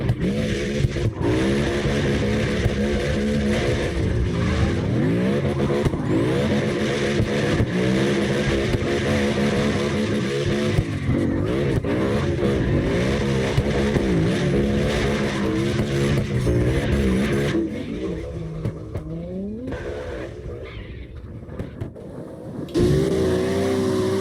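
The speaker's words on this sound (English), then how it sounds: "Florida drivers dominating the drift." Cars drifting in the video game CarX Drift Racing Online, engines revving hard and continuously with tire squeal, loud and steady throughout, easing slightly near the end.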